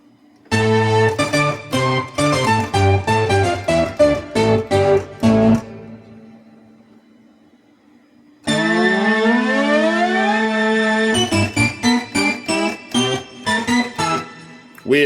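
A Prophet analog synthesizer plays rapid sequenced notes, pauses, then returns with sweeping gliding tones and pulsing stabs, loud and close with a siren-like quality.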